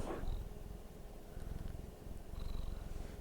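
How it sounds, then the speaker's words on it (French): A cat purrs steadily at close range, a low continuous rumble that carries on throughout with slight swells, during a live ASMR session, with no talk over it. "au moins vous aurez eu un petit peu de ronron"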